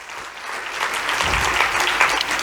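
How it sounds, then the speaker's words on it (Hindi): An audience claps enthusiastically for a performance by girls of an orphanage, the dense applause swelling slightly and holding steady for a couple of seconds. "ऐसी माओं के लिए एक बार जोरदार तालियां"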